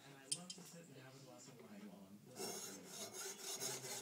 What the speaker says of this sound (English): I'm going to use a hacksaw to make a series of grooves in the stone